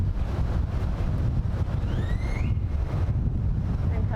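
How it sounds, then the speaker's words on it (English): Wind blowing outdoors during a yoga session in downtown Dallas, a steady low roar of gusts buffeting the microphone throughout, with a few faint high whistling tones partway through. "there's that wind"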